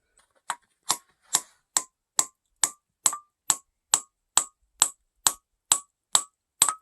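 A hammer strikes steel wedges driven into rock to split out ocean picture stone in British Columbia, fourteen evenly spaced ringing metallic blows, close and clear against silence.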